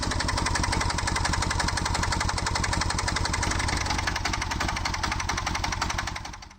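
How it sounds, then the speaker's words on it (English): A diesel-powered military KLR motorcycle engine runs steadily with a loud, dense, rapid thumping beat close by, holding constant before fading out at the very end. "the switch to diesel power makes it even more of a thumper"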